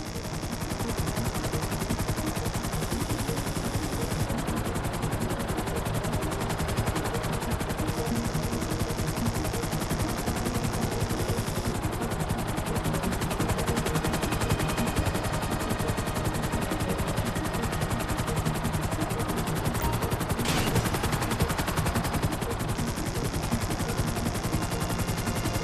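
Sustained rapid gunfire in Grand Theft Auto V, shooting downward from a hovering helicopter, as a dense, unbroken wall of shots over a continuous rotor roar.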